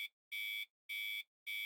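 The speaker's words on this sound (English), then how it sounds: "I always set my alarm extra early so I can hit snooze a few times before getting up" A video game alarm clock rings in a visual novel, sounding as three sharp, identical electronic buzzes separated by brief silences, loud and clean with no voices.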